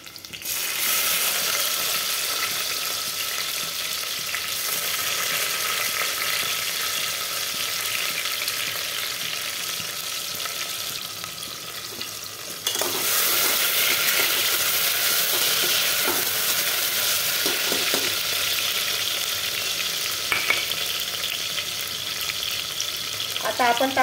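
Chopped tomato added to onions frying in a pan, a loud, close, continuous sizzle that jumps louder partway through, with stirring scrapes and clinks, no voices.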